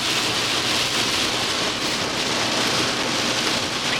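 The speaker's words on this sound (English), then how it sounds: "Absolute pouring down with rain now." Heavy rain pours down in a dense, constant hiss of drops hitting surfaces nearby, steady and loud for the whole stretch, with no one speaking.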